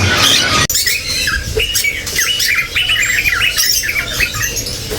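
A sooty-headed bulbul sings a rapid, bubbling trill repeated over several seconds, loud and close, with a busy chattering background and a single sharp click early on.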